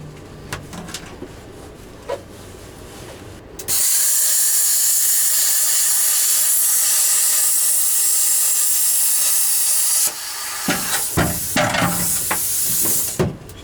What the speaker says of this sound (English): We just needed a little more sauce with the plasma cutter.